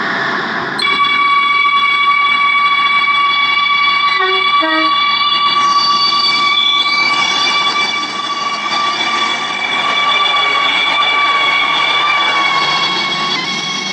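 A metro train in the Stepford County Railway video game passes through Stepford High Street station, a loud steady rumble with sustained tonal whine and brief horn-like tones, continuous and close throughout.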